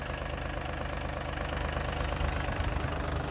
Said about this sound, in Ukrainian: Двигун працює гарно, рівно, не димить, не сапонить.